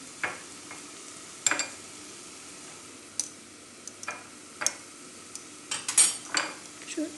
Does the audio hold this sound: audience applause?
no